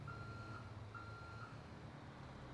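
A dump truck reversing in a video game mod gives a quiet, evenly spaced reversing beep, three tones in quick succession over a low engine hum, with no talk.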